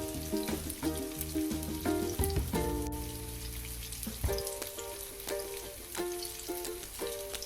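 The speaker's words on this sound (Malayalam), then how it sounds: "ഒരു പുറം പാകമായാൽ മറുപുറം മറിച്ചിടുക എന്നിട്ടത് നല്ലപോലെ മൊരിയാൻ അനുവദിക്കണം" A cheese cutlet frying in a pan gives a steady crackling sizzle with soft popping throughout, close and moderate in level, over a gentle melodic background tune and no talking.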